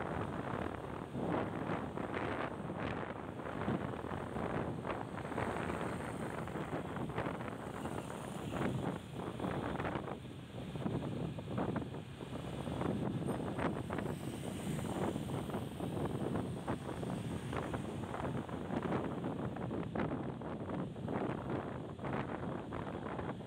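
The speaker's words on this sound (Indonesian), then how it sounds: "Kondisi Jalan Jenderal Sudirman ini masih cukup ramai, lalu lalang kendaraan," Night traffic on a busy city street, Jalan Jenderal Sudirman, with motorbikes and cars passing in a steady rushing wash that swells and fades, heavy wind buffeting over the microphone, no speech.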